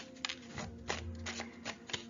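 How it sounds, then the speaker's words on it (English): Tarot cards are shuffled by hand in quick, soft riffling bursts, several short rustles in a steady rhythm, faint and close with no voice over them. "that's a good shuffle"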